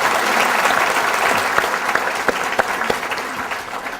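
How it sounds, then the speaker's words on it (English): Audience clapping for a panel of speakers at an internet economy event, dense applause that starts full and tapers into scattered, sharper claps toward the end. "If we could please give our panel a round of applause."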